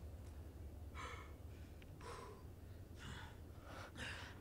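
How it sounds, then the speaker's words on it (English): Leon in the horror game Resident Evil 4 Remake breathes heavily, a faint, steady pattern of ragged gasping breaths roughly once a second over low background hum. "Calm down. Slow your breathing."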